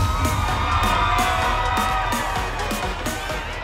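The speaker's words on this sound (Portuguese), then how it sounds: "começou a gritaria do povo" Brazilian carnival crowd shouting, whooping and cheering in a loud, continuous wash of voices, with repeated rhythmic thumps beneath the roar.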